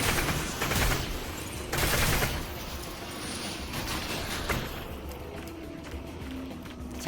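Rapid-fire Combine weapon in Half-Life: Alyx, bursts of automatic gunfire crackling in quick clusters at moderate volume, then fading into quieter shuffling and ambient noise.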